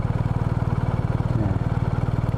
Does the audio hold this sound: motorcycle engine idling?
yes